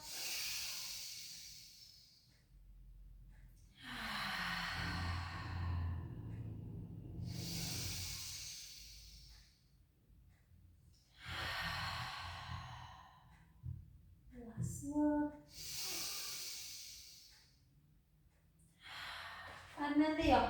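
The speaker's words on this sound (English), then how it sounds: "taking some deep breaths in and out. So a bit of a belly breath on the inhale." Slow, deep belly breathing during a Pilates rehab session: several long, audible breaths in and out, each lasting a few seconds and separated by quiet pauses. The breaths are close and soft, with a few brief voiced sounds in between.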